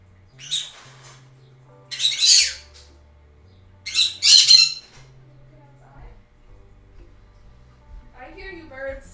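Several bursts of squawking from birds outside near a back porch, loud and harsh, with a softer chirping call near the end over a low hum.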